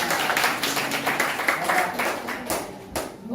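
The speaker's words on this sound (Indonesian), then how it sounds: "Tepuk tangan dulu buat kalian semua." Students in a classroom guidance session clap together, a brisk, close, uneven volley of hand claps lasting a few seconds with a couple of sharp final claps as it trails off.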